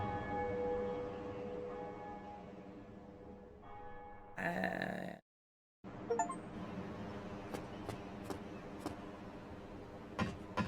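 The Bell of Awakening tolls in Dark Souls: a deep, ringing bell peal that swells loudly, then breaks off into silence before game sounds come back with faint clanks.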